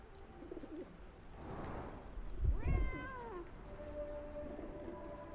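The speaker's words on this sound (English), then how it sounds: "Kitty cat, I can hear you." A cat meows, one clear drawn-out call rising and falling, heard faintly over a quiet background with soft rustling around it.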